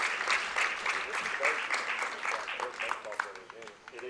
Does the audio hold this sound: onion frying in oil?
no